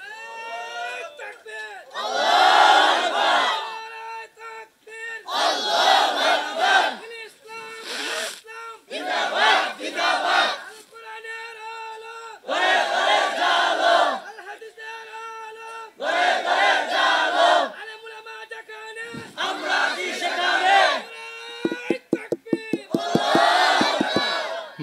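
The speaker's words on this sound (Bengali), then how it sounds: "জোরে একজন তাকবীর দেন তো দেখি।" A large gathering at a religious sermon shouts the takbir chant, a leader's call followed by loud massed voices answering in repeated bursts that swell and drop, alternating in a regular call-and-response rhythm.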